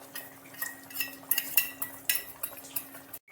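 A utensil stirs Bhola fish curry with whisked, spiced yogurt in a pan over a lowered gas flame, giving irregular clinks and scrapes against the metal over a soft background hum, with no speech.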